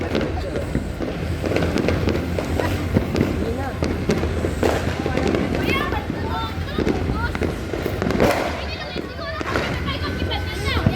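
New Year's fireworks crackle and pop continuously at a distance, with children shouting and people talking throughout.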